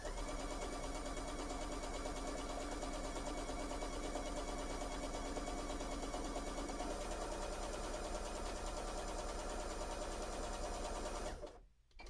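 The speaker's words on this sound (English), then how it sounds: "So let's look at what the zigzag will look like when we sew. Let's sew that out." Bernina sewing machine stitching a zigzag on knit fabric, running as a steady, fast, even whir with rapid needle rhythm for about eleven seconds before stopping abruptly; close and continuous with no speech over it.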